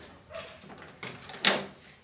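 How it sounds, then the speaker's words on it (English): Door of a 1972 Chevy truck, repaired at the cab corner and rocker panel, swings and latches with a firm metallic thunk near the end, preceded by soft creaks and handling sounds. "the door shuts like new"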